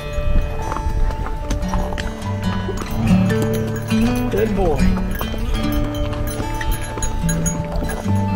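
Horse hooves clip-clop along a brushy mountain trail near the Ptarmigan Tunnel in Glacier National Park, Montana, a steady rhythmic plodding with tonal sounds and background chatter mixed in.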